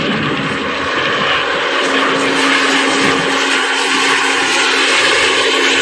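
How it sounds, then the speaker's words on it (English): An airplane flies close by through an open doorway, a loud steady engine roar with a constant hum that fills the whole stretch without pause. "the plane just flew right into the doors open"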